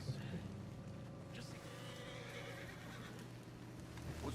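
A horse in Red Dead Redemption 2 neighs in a drawn-out whinny over a steady low rumble of game ambience, with faint hoof clops and no talk.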